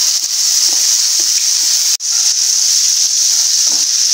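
Ground garlic chutney is stirred into a hot mustard-seed tempering, sizzling and hissing loudly and steadily, with a few soft scrapes of a spoon and one brief dip in the sizzle partway through.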